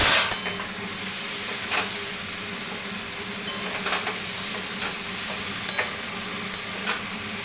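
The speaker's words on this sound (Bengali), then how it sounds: "এখানে আমার মাংস কষা হচ্ছে" Meat braising in a pan on a home stove while being stirred, a steady broad hiss and sizzle with occasional scraping clicks of the spoon, fairly close and alone.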